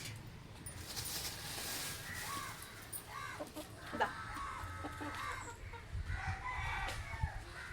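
Chickens cluck and a rooster crows in a farmyard, with scattered bird calls over a steady low background rumble.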